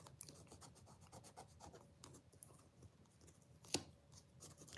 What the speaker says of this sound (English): give them a little bit of a rub with your bone folder, just so that they are really stuck down